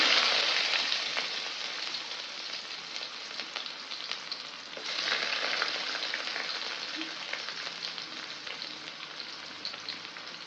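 Onions frying in hot oil with cinnamon, cloves and cumin for goat head gravy give a steady, close sizzle that swells briefly as more is added, with no talking.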